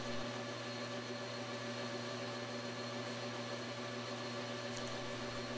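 A lathe parts a 1-inch 1144 stress-proof steel bar at 780 RPM, giving a steady droning hum with a constant tonal whine and no break for more than five seconds.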